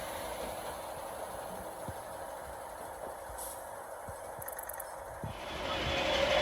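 A freight train bound for Tunstead passes through Preston station, a steady low rumble with intermittent wheel clanks and brake hiss, swelling louder toward the end.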